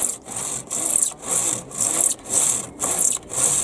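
A hand saw cuts through a piece of clamped wood at a shallow angle in a garden, with six or seven close, rhythmic rasping strokes separated by brief pauses.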